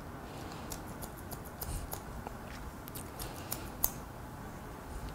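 Hair-cutting scissors snip repeatedly during a men's low-graded haircut, a series of faint, irregular metallic clicks over a steady background hiss.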